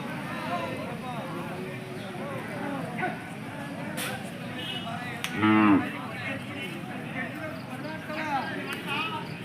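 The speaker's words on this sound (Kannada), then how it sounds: "ಜೋಡುಗಟ್ಟೆ ದನಗಳ ಸಂತೆ ಪ್ರತಿ ಭಾನುವಾರ" At a weekly Sunday cattle market in Jodugatte, a cow lets out one loud, close moo partway through, over a continuous murmur of people talking and crowd noise.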